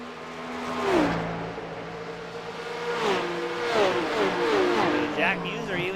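Porsche Cup Challenge race car at full throttle at Watkins Glen, a loud engine climbing in pitch and shifting through gears, then revving up again, with a race commentator talking over it.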